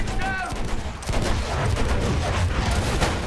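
Gunfire from Battlefield 1, a World War I shooter game, crackles in a dense fusillade of sharp bursts over about three seconds, with a short whistling tone near the start and faint voices mixed in.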